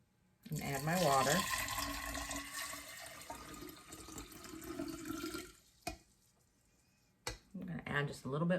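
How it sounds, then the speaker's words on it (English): Water running into a 64-ounce glass jar holding lentil seeds, a steady close gurgling pour for about five seconds, then a pause and a few shorter splashy bursts at the end. "And add my water."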